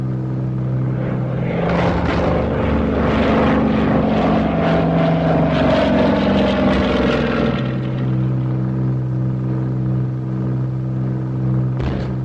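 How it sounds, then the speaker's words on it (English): A wartime bomber limps along on one engine in a 1942 film scene, a loud droning propeller rumble that wavers and shifts in pitch midway, then settles to a steady hum, without talk. "We'll have to stooge home on the one engine."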